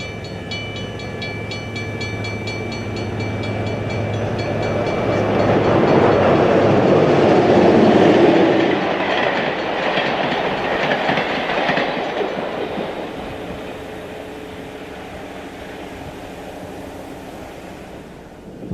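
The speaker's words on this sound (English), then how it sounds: "The Wabash Bluebird heads west for St. Louis at Central Avenue in Oak Park in 1960." The Wabash Bluebird passenger train heading west for St. Louis at Central Avenue in Oak Park, 1960, swelling to a loud rumbling roar with rail clatter as it passes, then fading away.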